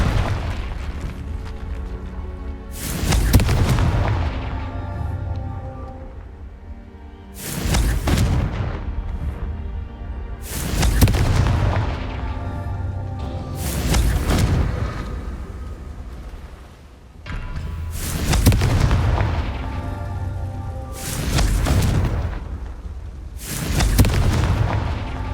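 Repeated booming fire-curse explosions from the Confringo spell in Hogwarts Legacy, about seven heavy blasts spaced a few seconds apart, each a loud burst decaying into a rumbling tail.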